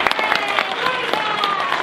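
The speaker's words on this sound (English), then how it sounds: "give him a round of applause" Steady applause from a church audience for the actor playing Mordecai during a staged performance of the Story of Esther, dense and continuous clapping filling the room for a couple of seconds.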